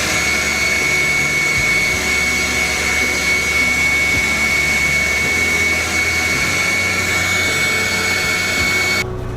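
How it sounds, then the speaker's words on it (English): A vacuum cleaner runs steadily and loudly, close by, cleaning out the exhaust of a 736 cubic inch twin turbo yacht engine with a constant whining drone that cuts off abruptly at the end. "I wanted to vacuum it out anyway"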